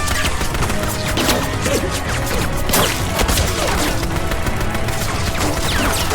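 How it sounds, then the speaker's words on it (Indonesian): Dense, continuous gunfire from advanced rifles in an action film, sharp bursts crackling over a loud, cluttered mix with crashes and impacts, with no let-up across the whole stretch. "para petugas SWAT yang sedang menyelamatkan anak-anak mulai ditembaki oleh senapan canggih milik nomor 12"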